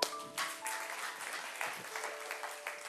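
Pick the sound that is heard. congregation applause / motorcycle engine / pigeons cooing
congregation applause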